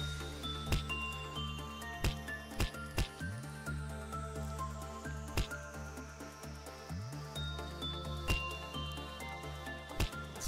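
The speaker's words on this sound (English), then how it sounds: "sound you're hearing is Punishing Bird, by the way." Punishing Bird, an abnormality in the video game Lobotomy Corporation, makes repeated sharp clicks and chirps over a steady tonal game soundtrack, with irregular bright transients scattered through the background music.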